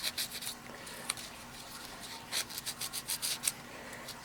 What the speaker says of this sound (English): Take your fine sandpaper